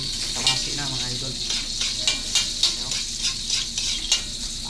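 Tomatoes, onion and garlic sautéing in a pan for monggo, a steady close sizzle with repeated scraping stirs of a utensil against the pan.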